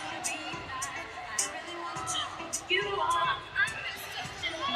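A crowd at a Metcon Rush 2025 fitness competition yells and whoops in a steady babble of overlapping shouts and cheers that swells toward the end.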